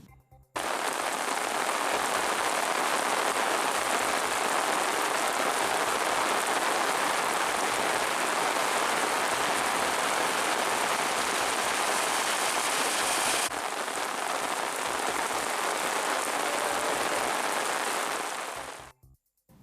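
Steady heavy rain pours down in Virudhachalam, Cuddalore district, a dense continuous hiss of drops on surfaces holding at the same level throughout, with a slight drop in intensity late on and no voices.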